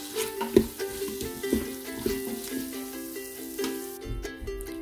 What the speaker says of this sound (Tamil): இதை நல்லா மிக்ஸ் பண்ணி விட்டுருங்க. இது ஒரு நிமிஷம் போல வதங்கட்டும்.